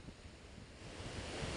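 Strong monsoon wind blows along a shore where fishing boats sit idle, a steady broadband roar mixed with surf and buffeting on the microphone, holding loud and unbroken throughout.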